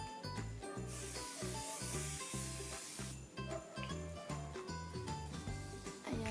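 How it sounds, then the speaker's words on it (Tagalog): Setting spray is misted onto a face during a makeup routine, with a hissing burst of spray over steady background music. "Mag-spray ako ulit nito."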